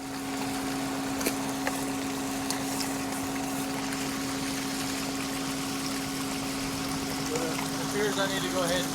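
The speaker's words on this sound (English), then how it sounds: "it's definitely a lot of water now" A heavy stream of leaking water pours into a dug-out pool excavation beside Nudura ICF block walls, producing a steady, unbroken rushing wash with a low humming drone running beneath it throughout.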